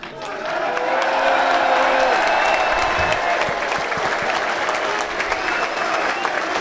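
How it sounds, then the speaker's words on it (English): Football crowd applauding Scarborough players after the NPL play-off final against Warrington, loud sustained clapping with some cheering, close and dense, with faint voices mixed in. "So now the players getting applauded up the stairs as well."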